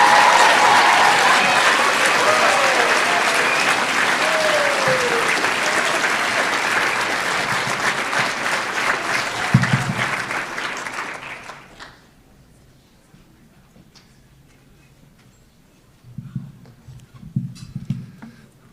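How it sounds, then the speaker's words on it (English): A graduation crowd at The Oakridge School gives a long, dense ovation for the graduating class that fades out around twelve seconds, followed by near silence and a few scattered thumps. "Let's give all 81 a big round of applause."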